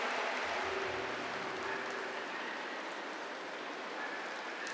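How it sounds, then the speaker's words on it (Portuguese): A congregation applauds the Eucharist at a Catholic worship service, a steady wash of many hands clapping that holds evenly throughout, dense and continuous like rain. "aplaudir a Eucaristia."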